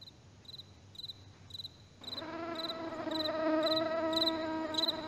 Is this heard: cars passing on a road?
no